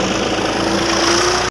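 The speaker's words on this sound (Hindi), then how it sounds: "240 ट्रैक्टर है, ईंटों का लोड है" A 240 tractor carrying a load of bricks rumbles on a road, its engine droning loud and steady up close before cutting off abruptly at the end.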